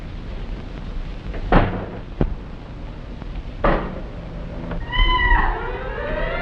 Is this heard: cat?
yes